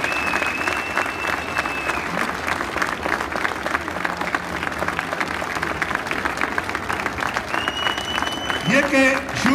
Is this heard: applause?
yes